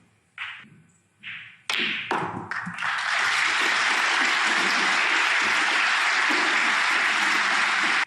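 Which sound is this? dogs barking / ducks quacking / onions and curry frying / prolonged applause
prolonged applause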